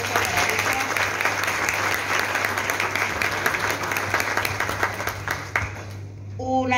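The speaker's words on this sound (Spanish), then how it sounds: "Un aplauso para ellos." At the closing of a 2022 mental health congress, the audience breaks into sustained, dense applause for the honored authors, with a low steady hum beneath it, before the clapping cuts off near the end.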